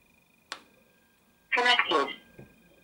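A faint click, then a brief electronic tonal prompt a second later as a phone connects to a Bluetooth speaker built from a two-way radio, with a small trailing blip.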